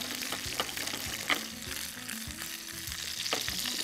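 Curry leaves frying in hot oil, a steady crackling sizzle with occasional stirring scrapes and soft clinks of a utensil against the pan, close and continuous without any voices.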